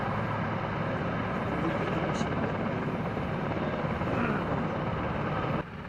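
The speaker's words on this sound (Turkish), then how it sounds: "Hava Kuvvetleri Arama Kurtarma Helikopteri" A Turkish Air Force search and rescue helicopter thrums steadily and loudly nearby during a mountain rescue exercise, its rotor and engine noise filling the whole stretch before dropping off at the end.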